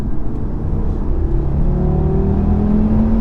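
An Audi RS3 engine revs hard under acceleration, a loud, close, steady roar with the pitch climbing smoothly as the car pulls, with no voices over it.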